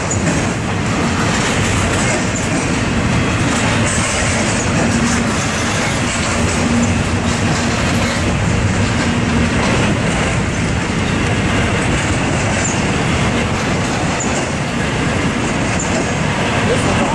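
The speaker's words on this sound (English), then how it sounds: "Wrong train." A train rolls past on the tracks at Tehachapi, loud and close, with a steady rumbling roar and faint rhythmic wheel clatter sustained throughout, a brief tonal whine mid-pass and a voice briefly heard.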